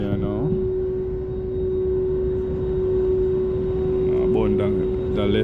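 An airliner taxiing at Fort Lauderdale airport before a flight to Jamaica, heard from inside the cabin as a steady engine drone with a sustained whine throughout, while people talk over it.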